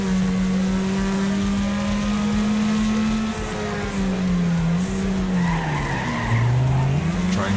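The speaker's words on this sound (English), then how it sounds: "I'm gonna do some left footing on the brake here." Race car in the Wreckfest racing game braking hard with left-foot braking, tires skidding and squealing over a steady, loud engine drone whose pitch dips and rises as the car slides, with continuous engine and tire noise throughout.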